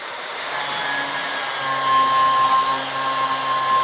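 Angle grinder flattening a plug weld on a car body, a continuous high-pitched whining grind with a steady tone, close and loud, no voices.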